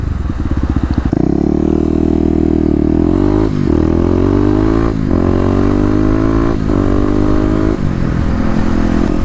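A Kawasaki KLX250 motorcycle engine while riding, a loud close steady drone with several rising and falling rev changes as it accelerates and shifts, wind noise over the top.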